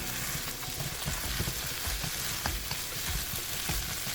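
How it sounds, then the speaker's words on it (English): Eggplant sizzles and crackles in a hot pan as it is tossed during a tofu stir-fry, a loud continuous fry with scraping stir noises scattered through it and no talking. "toss in some eggplant and give it a quick toss"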